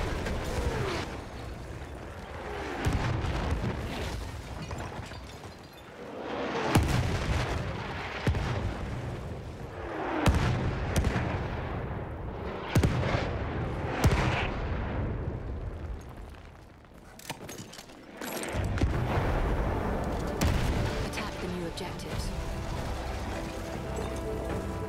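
An enemy artillery barrage pounds the battlefield in Battlefield 1: heavy shell blasts boom one after another, some near and some more distant, with rumbling debris and brief lulls between impacts throughout.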